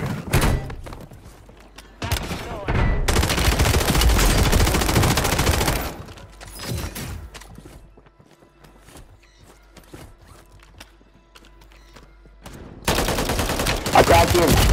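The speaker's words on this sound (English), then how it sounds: "I shot him in the face!" Gunfire in the shooter game Call of Duty Warzone 3 comes in dense, loud automatic bursts with heavy thumps, then a quieter stretch and another burst at the end.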